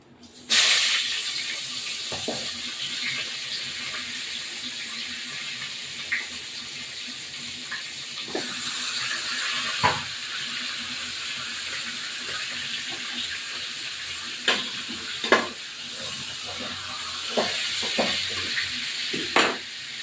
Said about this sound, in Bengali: কাতলা মাছের মাথাটা নুন হলুদ দিয়ে মাখিয়ে রেখেছি, এবার আমি ভাজতে দেবো।